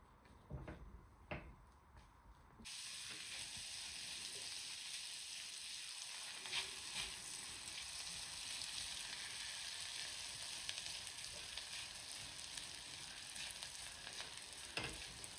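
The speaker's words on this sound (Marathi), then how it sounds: "आपण ह्याच्यामध्ये घालणार आहे लसूण, ही छान अशी लालसर परतून घ्यायची आपल्याला" Garlic browning in hot oil in a pan gives a continuous close sizzle and crackle that starts after a few seconds of quieter handling noises and then holds steady for the rest of the clip.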